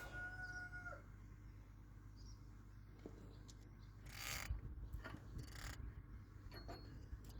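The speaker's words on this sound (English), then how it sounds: "And now I'm gonna loosen it off." A rotor nut being loosened on a first-generation Dodge dually pickup: a few close metallic ticks, then two short, rasping bursts of wrench-on-nut scraping over a low workshop hum, with no talking.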